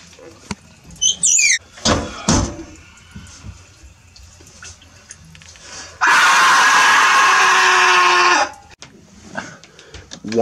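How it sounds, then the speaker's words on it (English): A person lets out a loud, close scream lasting about two seconds mid-clip, set between quieter rustles, knocks and brief vocal sounds in a comedy body-swap scene. "Why are you screaming?"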